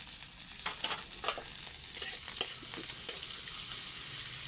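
Chopped chili frying in hot oil in a pan, giving a steady close sizzle with scattered crackles and occasional stirring scrapes.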